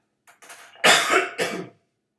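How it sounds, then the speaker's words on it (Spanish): Lecturer with a flu coughing in a classroom: a short throat-clearing hack followed by two louder, rasping coughs, close and alone with no talk. "Perdonen, con esta tos está un poquito engripado"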